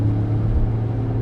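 Porsche 911 991 Carrera S engine revving, a deep steady rumble heard from inside the car, brief and continuous with no talk.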